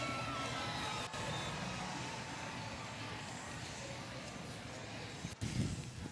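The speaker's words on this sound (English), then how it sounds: "Can you please give them a big round of applause?" A rodeo crowd at a Wrangler Federation Rodeo Challenge bull-riding event cheers and applauds for the protection athletes, a dense, steady roar of many voices and claps that holds throughout, with a brief dip and a louder swell near the end.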